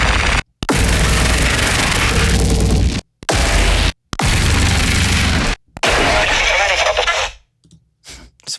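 Degraded impact samples from a sound pack play back to back, several harsh, crushed, noisy bursts separated by short silent gaps, the last fading into faint crackles.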